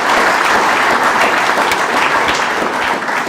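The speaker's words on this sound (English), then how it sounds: "let's put our hands together for Cyprian" An audience at an annual church conference applauds, a dense continuous wash of clapping from many hands, loud and close, holding steady for a few seconds before easing slightly.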